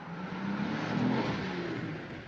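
In a 1942 film chase scene, a car engine swells as the car accelerates away, a moderately loud rising drone that fades slightly near the end.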